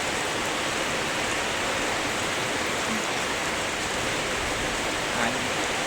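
Heavy storm rain pours down steadily in a dense, even hiss with no letup, loud and continuous throughout, with no voices.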